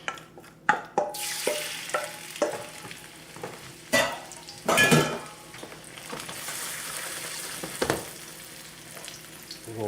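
Shrimp dropped into smoking-hot oil and frying with broccoli nearby, a strong crackling sizzle with stirring clatter and clanks, close and loud after a quiet start.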